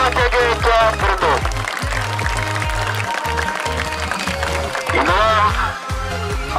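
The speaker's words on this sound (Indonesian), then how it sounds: "tepuk tangan untuk POJG Jogja" Crowd applause for the winning team at a village football tournament prize-giving in Aceh, sustained clapping mixed with a loud announcer's voice and background music.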